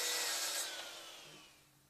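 A Mafell MT55cc track saw trims the rubber guide edge on a new track, a loud whining cut that quickly tapers off as the blade winds down, close and without speech.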